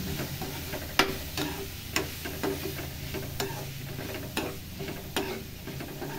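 Chili powder and turmeric sautéing on low heat in a pan for a bitter gourd fry, with a soft steady sizzle and occasional sharp ticks of a spoon stirring against the pan, close and fairly quiet.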